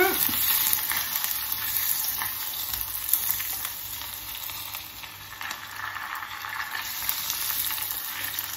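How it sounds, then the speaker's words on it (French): Salted butter melts into hot caramel in a pan, giving a continuous bright sizzle and bubbling hiss with faint stirring clicks, steady and close throughout, without speech. "Je vais mettre donc maintenant mon beurre demi-sel. On fait attention aux projections."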